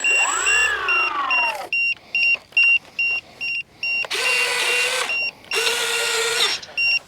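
Electric motor of a model P-51B Mustang airplane with a modified wing, whining in short bursts that rise and stop, then two longer high buzzing runs, with faint beeps from a transmitter in between.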